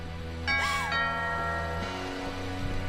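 A single chiming doorbell in the game What Remains of Edith Finch rings once, bright and clear, over a steady low ambient hum, then fades.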